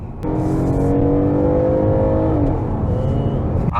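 A Kia K7 Premier pulls away, its engine note rising steadily and droning close and clear, then easing slightly near the end.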